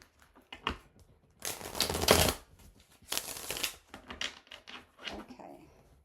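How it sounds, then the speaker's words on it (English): Tarot cards being drawn and shuffled from a deck, several dry papery bursts of riffling and sliding, close and fairly quiet, separated by short pauses. "Let's pull your last 3 tarot cards."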